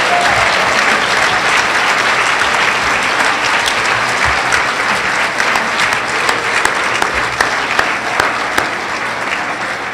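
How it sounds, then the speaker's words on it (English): An audience at a Making Strides Against Breast Cancer kickoff event claps loudly and steadily, a dense wash of applause that goes on for the full ten seconds without easing. "let's give these 2018 Pace Setters a big round of applause"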